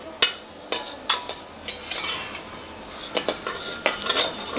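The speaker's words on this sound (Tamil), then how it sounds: "இப்போ அடுப்பை பற்ற வச்சு அடுப்பில் கடாயை வச்சுட்டேன். இந்த உளுந்தை வறுத்து காமிக்கிறேன்." Urad dal roasts in a kadai on the stove for kai murukku, making dry rattling and scraping as a spoon stirs the grains, with sharp metallic clinks at irregular intervals against a faint background hiss, no talk.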